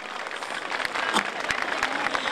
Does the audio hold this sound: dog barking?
no